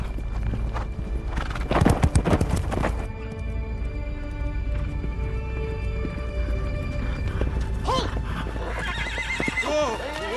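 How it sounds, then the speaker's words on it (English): A German officer's horse on a World War II battlefield, hooves clip-clopping and a loud whinny rising over a busy background, with voices and dramatic scoring around it. "Hubler's run-in with the German officer on horseback was the most dramatic moment of the day."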